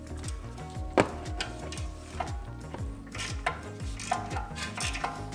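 Wrench turning a tie rod nut while springs are fitted on a 2010s BMW 340i F30, making repeated ratcheting clicks and metallic clanks in an uneven rhythm, close and moderately loud.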